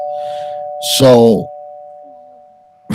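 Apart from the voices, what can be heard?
doorbell ringing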